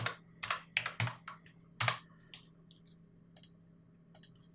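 Typing on a computer keyboard to change on-screen text: a quick burst of sharp, close key clicks, then a few sparser, lighter taps, with no voices over them.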